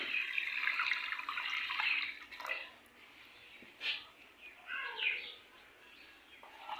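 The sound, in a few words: water being poured in for cooking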